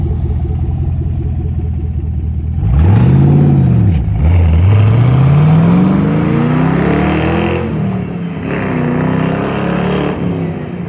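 Stock exhaust on a 5th-gen Chevrolet Camaro SS, fairly quiet, starting from a low idle and then revving up and down several times in a smooth, sweeping engine note that stays prominent throughout.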